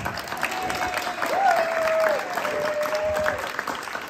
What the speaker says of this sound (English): Give him a clap.